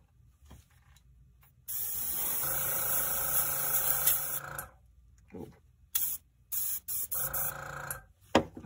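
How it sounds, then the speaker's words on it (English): A close aerosol can of brown paint hisses in a long continuous spray over skeleton miniatures, then several shorter bursts follow, with quiet gaps between them. "I'm gonna spray all the skeletons with Doom Bolt Brown"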